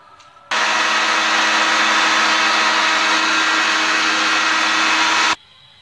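A grinder blends garlic and coconut chutney with black salt, amchur and a little water, running loud and steady for about five seconds before cutting off abruptly, with no talk.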